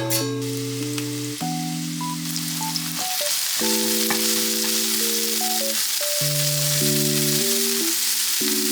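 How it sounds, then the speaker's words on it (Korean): Green onion and minced garlic stir-frying in oil in a pan, a steady sizzle hissing beneath louder melodic background music that plays throughout. "팬에 오일 두르고 대파랑 다진 마늘 한 큰술 넣고 볶다가"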